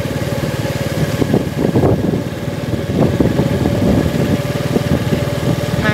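Motorcycle engine running steadily while riding through city streets, a loud, constant droning hum with a slight throb that rises a little midway, no talking over it.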